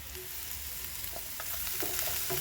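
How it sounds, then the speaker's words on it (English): Ginger and garlic frying with onions in a pan for a fish stew, a steady close sizzle broken by a few scraping stirs toward the end. "We keep on mixing them up and turning them to ensure the garlic doesn't burn"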